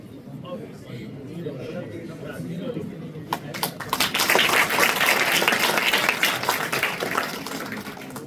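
Loud applause from an audience fills a science exhibition prize distribution, a dense wash of clapping swelling midway and continuing steadily to the end.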